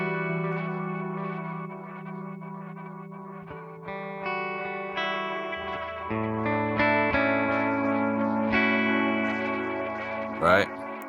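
Guitar notes through the analog delay of a Source Audio Encounter pedal, sustained tones trailed by repeating echoes that stack up and blur over the phrase, moderately quiet.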